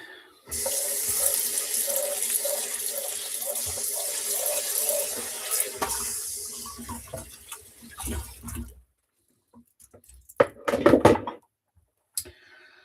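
Tap water runs steadily into a sink during dishwashing, a continuous splashing hiss with light knocks of dishes, then stops and gives way to intermittent clatter and a short burst of running water.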